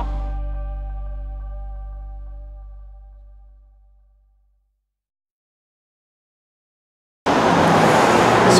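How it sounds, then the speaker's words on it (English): After a long fading tone and a stretch of silence, loud road traffic suddenly rushes in close by for the last second or so. "Sorry about the noisy traffic"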